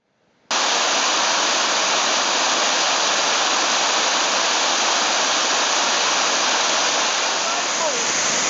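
A river in Kerikeri, New Zealand, rushes with a loud, steady broadband roar like a waterfall or fast stream, starting abruptly and continuing unbroken and close.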